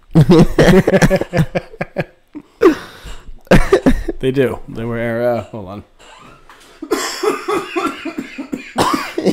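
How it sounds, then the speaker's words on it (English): Several harsh coughs and throat clearing, close and loud, interrupted by brief speech. "while I cough my lungs out"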